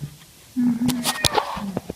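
A cat trapped for two weeks in a ventilation shaft of a multi-storey apartment block gives a strained, drawn-out meow, close and fairly loud, with faint background noise around it.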